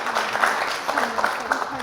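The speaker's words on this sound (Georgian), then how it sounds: "აპლოდისმენტები მარიამსაც" Studio audience applause in a televised school quiz show final, a brief patter of clapping running under a speaking voice.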